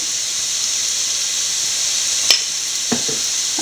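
Chili powder sautéing in a hot pan for a Kuttanad-style duck roast gives a steady, close sizzling hiss, with a couple of brief stirring scrapes near the end.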